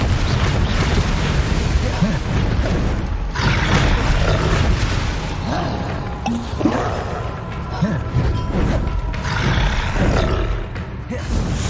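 A Bombarda blasting spell in the Hogwarts Legacy video game, loud rumbling, roaring explosions within a dense, continuous combat soundscape, with spell voices mixed in.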